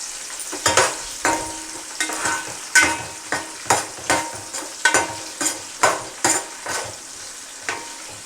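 Green chillies fry with sautéed onions in oil for a drumstick, egg and tomato curry, a soft continuous sizzle punctuated by regular rhythmic scrapes of a spatula against the pan, close and clear.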